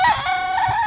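A farm chicken gives a short, loud cluck-like call, a single close burst of under a second with no talk.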